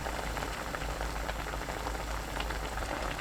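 Braised sand lance with red and green chili and scallion bubbles in a pan over high heat. A steady, close, busy simmer of popping bubbles carries on without a break.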